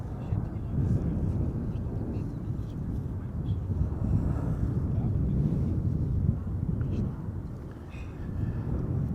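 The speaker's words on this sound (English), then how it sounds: "this is KLM flight 765, the A330-200 arriving from Bonaire" KLM Airbus A330-200 airliner arriving at Amsterdam Schiphol Airport, a continuous low jet rumble with wind buffeting on the microphone, steady and fairly loud, with people talking faintly underneath.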